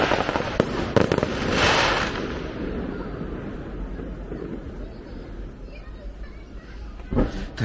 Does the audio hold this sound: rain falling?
no